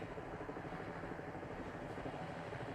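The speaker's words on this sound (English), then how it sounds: "As if they couldn't hear the helicopters outside the apartment anyway." Helicopters hover outside an apartment in the film Spider-Man: No Way Home, a faint, steady rotor drone that runs unbroken throughout.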